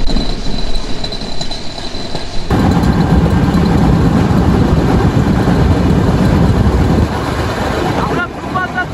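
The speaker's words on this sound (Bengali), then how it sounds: "ট্রেনটি এত গতিতে চলে যা আসলে অতুলনীয়" The Ruposhi Bangla Express speeds along newly built track with a loud, continuous rushing roar of wheels and rolling stock that holds steady for several seconds, then eases slightly near the end.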